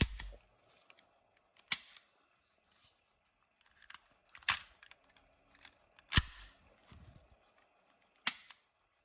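A Tara TM-9 pistol fires with an empty magazine, giving five sharp close clicks and snaps spaced a second or two apart, with faint handling noise between shots and no voices.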